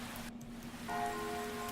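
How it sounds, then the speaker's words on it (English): Steady rain falling in the Seduce Me otome video game, a soft continuous hiss of drops with a faint tonal hum that rises slightly partway through, quiet and even, with no voices. "The rain became heavy"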